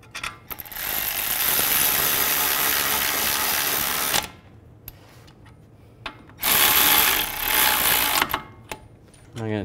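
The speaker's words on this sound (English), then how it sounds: "I'm gonna torque these bolts to 74 foot-pounds." A power ratchet whirs in two long bursts, tightening the caliper bracket bolts on a 2011–2015 Chevy Cruze during a front brake and hub job. Clicking and brief pauses separate the bursts.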